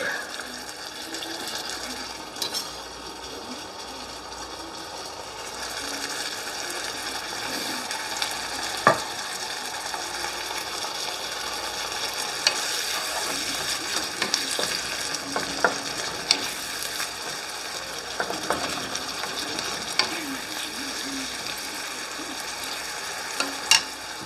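Garlic frying and being stirred in a pan while cooking for shrimp enchiladas, a steady sizzle with scattered clacks and scrapes of a utensil, and a faint watery trickle in the background.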